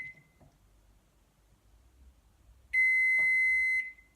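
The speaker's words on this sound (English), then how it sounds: "and it beeps, and I can see that there's a lock symbol on here" A Russell Hobbs RHM1714 compact digital microwave gives a single steady electronic beep of about a second as its child lock engages, preceded by a much fainter short beep and quiet handling noise.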